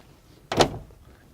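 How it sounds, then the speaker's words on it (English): A single heavy Liugong excavator cab door unlatches and swings open with a short thunk and rattle, close by, in an otherwise quiet space. "Open the door,"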